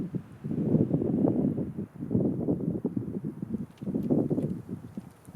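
Wind blows outdoors on a lone hike in Canadian backcountry near water, coming in three rushing gusts that swell and fade, close to the microphone with brief lulls between.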